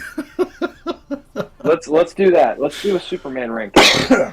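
A single sharp sneeze bursts out near the end of a stretch of animated, laughing conversation, loud and close against the chatter that precedes it.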